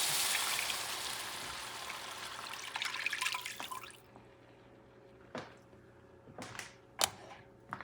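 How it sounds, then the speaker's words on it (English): Water poured into a pan of shrimp paella, a rushing pour for about four seconds, then a few sparse drips and small clatters, with no talking. "you're going to add about 2 cups of water"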